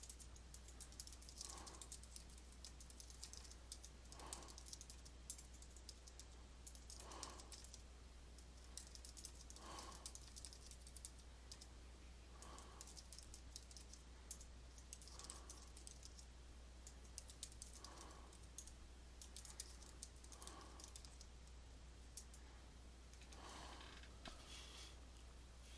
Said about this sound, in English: just typed up a few things real quick